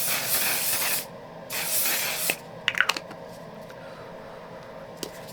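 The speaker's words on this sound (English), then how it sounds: "On Till Dawn setting spray." Two long, close hissing bursts of makeup setting spray from an On Till Dawn bottle, followed by faint clicks and light handling noises.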